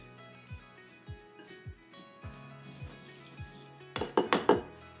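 Fruit crisp topping of cinnamon and a pinch of salt stirred in a bowl, with a steady run of soft rhythmic clinks and scrapes, then a louder flurry of clattering near the end.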